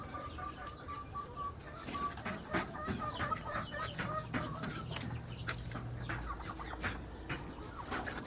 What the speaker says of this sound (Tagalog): Tingnan natin yung manok ko na nangingit dito sa isang kulungan.